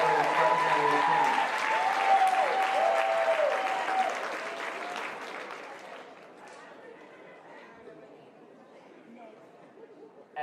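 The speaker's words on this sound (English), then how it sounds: "Let's give one more round of applause to Representative Edwards and Representative King." A large crowd applauds at a high school commencement, loud continuous clapping with voices mixed in that tapers off over several seconds to quiet murmuring.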